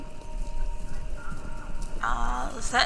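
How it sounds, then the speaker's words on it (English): Horses galloping in a race, heard over a radio station inside the video game Kentucky Route Zero: a steady, fast clip-clop of hooves under a broadband crowd-like wash, with a whinny near the end. "Sounds like horses. Horses running? A race?"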